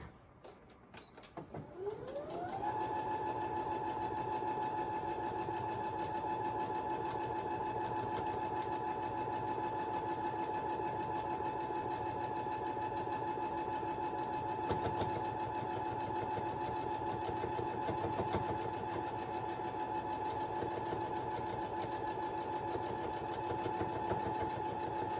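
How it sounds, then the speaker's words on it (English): Sewing machine stitching a straight line through quilt fabric on a king-size postage stamp quilt, starting up after a brief pause and then running in a steady, continuous, close hum for the rest of the clip. "then we're just going to sew all the way down this line just to the edge"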